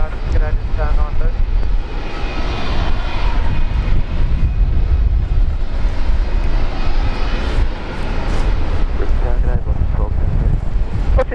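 An airliner departs runway 19 at Brisbane Airport, its engines a loud, sustained roar with wind buffeting the microphone and faint radio chatter breaking through now and then.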